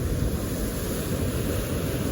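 Storm waves churning in a bay after Hurricane Roslyn, a constant loud wash of surf and wind noise with no distinct individual breaks.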